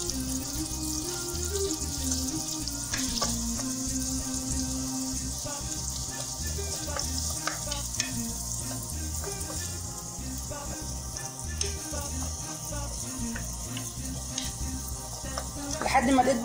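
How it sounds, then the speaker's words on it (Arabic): Chopped onion sizzles steadily in melted butter in a frying pan, a constant close crackle with occasional stirring scrapes and no talk over it. "حطيت فيها حته زبده، وبعدين هنزل عليها بالبصله اللي انا مقطعاها ديت الحتت صغيره"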